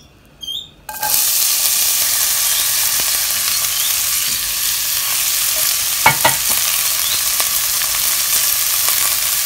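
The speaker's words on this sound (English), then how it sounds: "Adding in the onion, garlic, and celery." Onion, garlic and celery dropped into melted butter for white chicken chili, a faint clink and then a sudden loud, steady sizzle with occasional stirring scrapes and taps against the pan.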